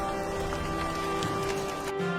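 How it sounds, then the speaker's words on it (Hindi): Steady rain pours down continuously, a dense hiss of drops with no breaks, accompanied by a constant tonal hum in the background. "कुछ दिन के बाद मानसून आया और बारिश होने लगी"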